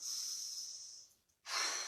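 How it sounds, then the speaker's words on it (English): Slow, audible breathing during a yoga hamstring stretch in a half pyramid pose: a long airy exhale, a brief pause, then a sharp hissing inhale close to the microphone. "Breathing into the pose."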